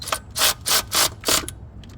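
Four quick bursts of ratchet clicking as bolts are tightened on the starter of a 2012 Honda CR-V, each burst sharp and close, with short pauses between them.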